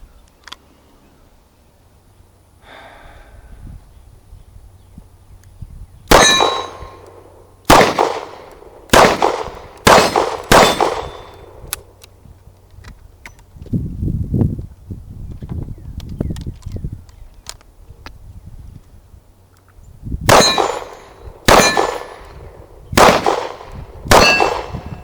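Ruger SP101 revolver in .357 Magnum firing at steel targets outdoors, a series of loud sharp gunshots with metallic rings, grouped in two volleys separated by quieter handling noise.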